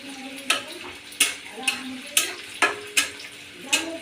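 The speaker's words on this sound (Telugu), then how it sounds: "ఇవి కొంచెం ఉల్లిపాయ ఎర్రగా వేగాలండి, బాగా డీప్ ఫ్రై అవ్వాలి" Onions and masala deep-frying in a pan for chicken fry, a steady close sizzle broken by about seven sharp scraping stirs spaced roughly half a second apart, with no talk.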